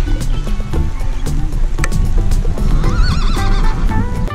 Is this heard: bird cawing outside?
no